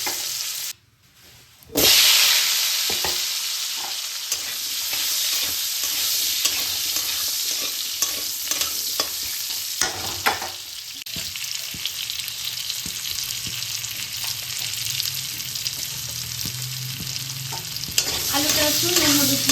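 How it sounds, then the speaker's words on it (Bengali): Potatoes fry in hot oil in a pan, a dense, continuous hiss-and-crackle sizzle after a brief quiet start, with occasional stirring scrapes; close and loud throughout, no speech. "আলুটাকেও এইভাবে ভেজে নিতে হবে"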